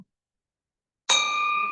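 A single bell struck once at a Rotary club meeting, a clear ringing ding after a second of silence that sustains and slowly fades.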